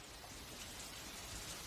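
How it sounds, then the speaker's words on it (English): A brief stretch of steady, heavy rainfall, an even wash of drops pattering on leaves and ground with no other sounds. "The monsoon rain feeds the tropical flora and fauna."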